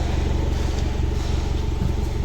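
A misfiring petrol car engine idles with an uneven, stuttering chug at the exhaust, its steady low rumble broken by irregular missed beats.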